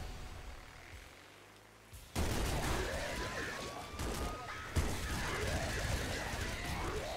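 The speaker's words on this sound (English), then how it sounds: "Watch as it all explodes." Chaotic bursts of explosions from the video game Nuclear Throne with heavy weapons, loud sudden blasts at about two and five seconds over a constant crackling, rumbling din of game effects.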